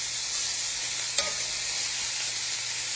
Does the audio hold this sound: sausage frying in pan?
yes